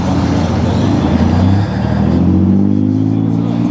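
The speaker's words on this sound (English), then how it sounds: "And the guy's pulling out with his van here." A van pulls out at a Cars and Coffee show of hot rods, muscle cars and classics, its engine close and loud, rising as it revs and moves off, with someone talking over it.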